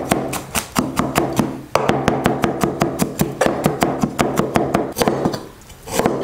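Knife blade striking a cutting board in quick, steady chops while coarsely chopping bashed garlic cloves, a close, crisp run of taps with one brief pause partway through.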